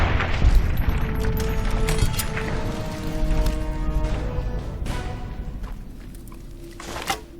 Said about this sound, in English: Never had grenades spammed at me like that before.